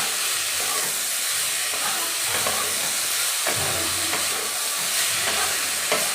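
Winter vegetables and soaked green peas frying in a pan for mung dal, a steady broad sizzle with scraping stirs of a spatula recurring every second or so, close and even throughout.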